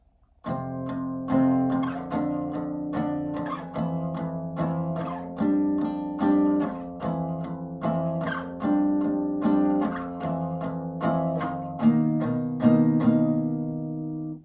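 A guitar plays chords with slow, even down strums, about four per chord, changing chords at a steady pace with no talking.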